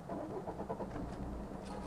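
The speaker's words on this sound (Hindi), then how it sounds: "तो इसको स्टार्ट करके देखते हैं।" A 2015 Maruti Suzuki Swift VDi diesel engine cranks and catches, a faint, muffled, brief churning start with no voices.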